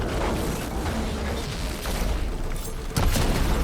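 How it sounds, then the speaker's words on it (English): A large explosion in the video game Horizon Forbidden West rumbles as a dense, continuous roar beneath game noise, with a sharper blast swelling near the end. "Oh, big explosion."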